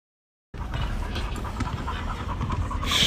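A dog pants steadily and quickly, close and fairly loud, with a faint scratching now and then.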